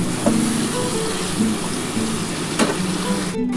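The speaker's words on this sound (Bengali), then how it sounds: "বন্ধুরা দেখো এই যে মশলার জলটা আমি দিয়ে দিলাম" Spiced water poured into a hot pan of chicken being cooked with capsicum, tomato sauce and soy sauce, a steady loud sizzle and splashing with a few clinks, ending in a brief louder rush.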